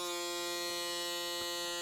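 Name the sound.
Braun Series 9 Pro+ electric shaver running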